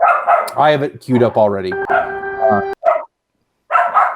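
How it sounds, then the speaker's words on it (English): Dogs bark and yip behind someone talking close by, several short sharp barks scattered through his speech, with a brief silent gap near the end. "I apologize for the dogs in the background"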